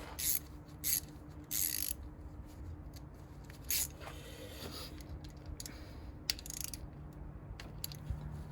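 A wrench ratchets on a 10mm grounding-wire bolt under the hood of a mk6 Ford Fiesta, producing quiet bursts of clicking and metallic scraping spaced irregularly, close but faint.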